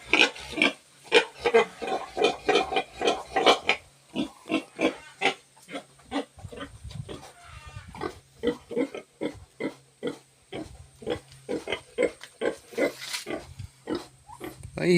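Repeated grunts of a wild boar, a rapid series of rough, close snorts and oinks continuing throughout with brief pauses.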